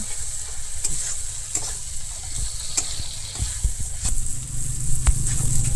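Chopped tomatoes sautéing in a hot pan, a steady close sizzle and crackle with occasional stirring scrapes throughout, no talking.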